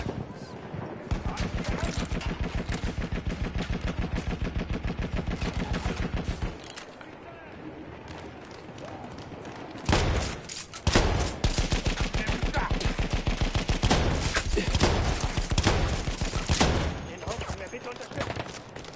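Loud shotgun and gunfire blasts repeat in the First World War shooter Battlefield 1, a steady rapid burst for several seconds, a short lull, then more heavy firing, with a voice speaking at times.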